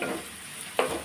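Finely chopped onion fries in oil in a pan with a steady, close sizzle and one sharp stirring scrape near the end of the brief moment.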